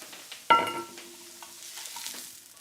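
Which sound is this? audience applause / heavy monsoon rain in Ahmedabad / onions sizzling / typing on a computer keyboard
onions sizzling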